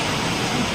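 Heavy rain with large drops pours down steadily, a dense, loud, even wash of noise with no break and no voices.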